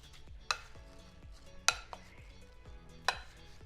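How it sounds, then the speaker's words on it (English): A spoon stirs fruit salad in orange juice, with wet squelching swirls and a few sharp clinks against the bowl, close and unhurried, with no one talking. "Get a big old spoon and stir it all together."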